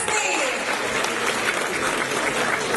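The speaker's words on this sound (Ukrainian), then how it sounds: "Ваші оплески!" Steady applause from a crowd at a university student initiation ceremony, dense and sustained clapping throughout with no pauses.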